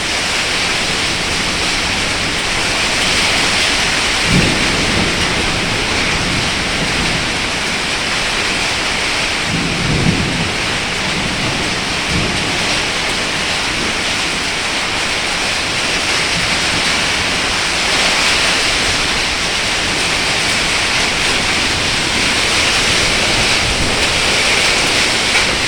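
A hailstorm with heavy rain roars steadily and loudly throughout. A few low rumbles of thunder rise briefly beneath the constant downpour.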